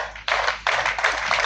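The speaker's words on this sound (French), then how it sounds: "je demande à tout le monde de l'applaudir très fort." Applause from a church congregation at a memorial thanksgiving Mass, a short burst of clapping that starts, dips briefly, then surges again and continues loudly, fairly close and dense.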